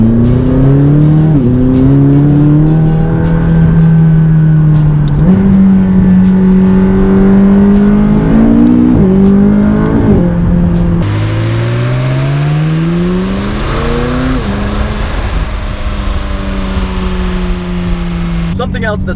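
A McLaren sports car's engine roars loudly from close inside the car while driving, its pitch climbing and dropping through repeated revs and gear changes.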